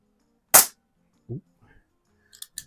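An Air Venturi Comp10 PCP target air pistol fires a single sharp pellet shot, close and loud, followed by a soft thud and small clicks of handling.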